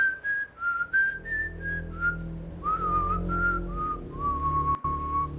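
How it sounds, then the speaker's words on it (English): A lone person whistles the tune Camptown Races in a dark thriller scene, a clear melodic line of short phrases with brief pauses over a low hum, with one sharp click near the end. "Someone whistling."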